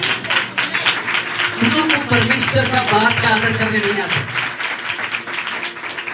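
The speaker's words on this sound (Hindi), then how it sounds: "अच्छा लगा कोई तो ताली बजाओ उधर।" A church congregation breaks into applause during a sermon, a dense burst of hand clapping that fills the room and gradually thins out, while the preacher keeps speaking over it.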